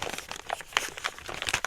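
A large plastic bag holding doll accessories crinkles and rustles as it is handled, with bursts of crisp crackling rising and falling close by, no voice over it.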